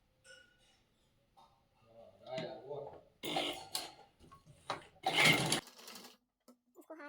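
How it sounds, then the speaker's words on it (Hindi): Domestic sewing machine stitching along a marked line on a blouse back neck in two short, close bursts, with quieter handling noises and a voice speaking softly in between. "अब जो मैंने ये निशान लगाया है, ये देखिए ब्लू वाला, इसी के ऊपर मैं सिलाई चला दूंगी।"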